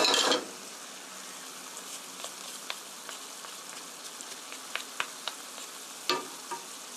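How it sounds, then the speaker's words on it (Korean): Fried chunjang sweet bean sauce is stir-fried in a pan with a soft, continuous sizzle. Scattered small clicks and scrapes of stirring run through it, and a louder clatter comes at the start and again near the end. "같이 볶아주세요"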